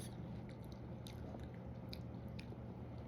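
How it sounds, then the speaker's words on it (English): Someone eating ramen up close, with soft, quiet chewing and wet squishing bites over a constant low background hum. "look at the ramen I'm eating"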